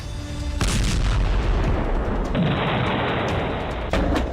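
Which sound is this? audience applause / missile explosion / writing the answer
missile explosion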